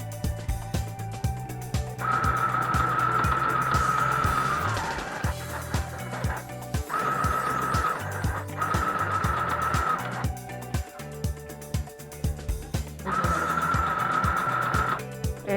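A mini sewing machine stitching after its tension nut was adjusted, its motor whirring in several sustained bursts with a rapid mechanical pulsing, close and fairly loud, separated by brief pauses.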